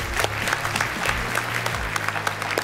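A TV talent show studio audience at the X-Factor Armenia chair challenge bursts into loud, sustained applause, dense clapping with faint crowd noise and a low musical tone underneath.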